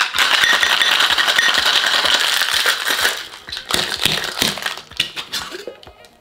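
Ice rattles hard and fast inside a metal cocktail shaker during vigorous shaking, a dense continuous clatter that loosens into separate knocks and slows near the end.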